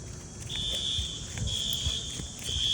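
A building fire alarm goes off in an apartment, its high electronic tone beeping in long repeated bursts at moderate distance over a low, busy background rumble.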